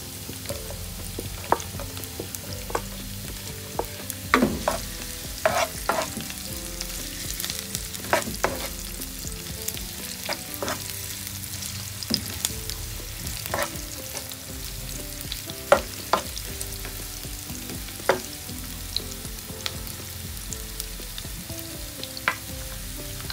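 Onions fry in a pan for sweet and sour snapper, a continuous close sizzle broken by frequent clicks and scrapes of a utensil stirring, no voices throughout.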